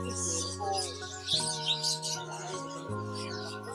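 Birds chirp and tweet steadily amid a busy, cluttered background of overlapping tones and market-like bustle at Pramuka bird market in Jakarta, with no clear talking.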